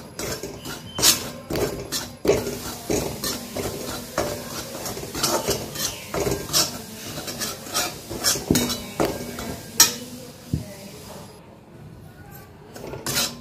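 Semolina being roasted in ghee in a pan until golden for karanji filling, a metal spoon scraping and clinking against the pan in repeated strokes with a soft sizzle beneath, close and clear, stirring fading near the end.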